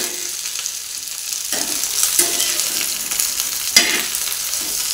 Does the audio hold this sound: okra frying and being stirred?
yes